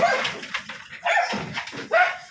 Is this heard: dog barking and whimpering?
yes